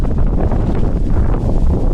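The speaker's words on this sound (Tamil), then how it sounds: "காத்து அடிக்குது காய்ஸ்." Strong wind buffets the microphone on a mountain trek up Paruvathamalai, a 4560-foot peak, producing a loud, continuous roaring rumble with no pauses or voices.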